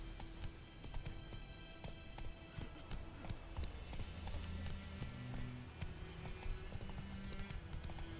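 Hooves of Roach, the horse in the Witcher 3 video game, clip-clopping in a steady quick gait through a ransacked village, soft and even under quiet ambient music.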